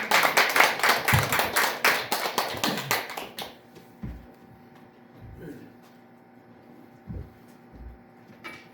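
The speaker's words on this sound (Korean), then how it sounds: "우리 박수로 환영하도록 하겠습니다" A church congregation at a ninth-anniversary Sunday worship service claps in welcome, brisk and evenly paced for about three seconds, then stops, leaving a quiet room with a few soft thuds.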